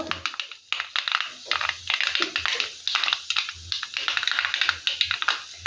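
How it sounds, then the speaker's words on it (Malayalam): Mustard seeds pop in rapid, irregular crackling bursts, sizzling continuously in hot oil, close and fairly loud, with brief pauses between bursts. "ആ, കടുക് പൊട്ടുന്നു."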